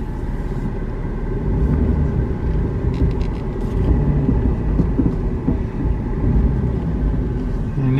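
A 2004 Jeep Liberty drives along while its transmission is tested, giving a steady low engine and road rumble from inside the cabin, continuous and fairly loud, with faint voices.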